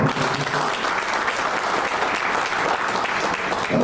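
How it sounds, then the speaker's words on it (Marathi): An audience claps through a public speech, a dense, steady burst of applause from many hands, loud and sustained the whole time without a break. "टाळ्या वाजून मोदीजींचा"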